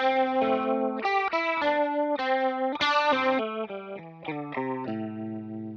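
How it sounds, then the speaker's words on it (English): Electric guitar run through a vibrato pedal, a melodic line of clear sustained notes with a gentle pitch wobble, played close and alone without any voices. "Then you've got the vibrato."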